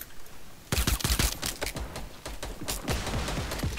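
Gunfire in Fortnite crackles in rapid bursts of sharp, close shots, one quick volley after another with brief gaps between, loud and punchy.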